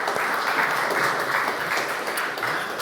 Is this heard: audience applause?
yes